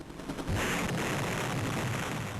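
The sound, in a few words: explosion effect in Perfect Dark (Game Boy Color video game)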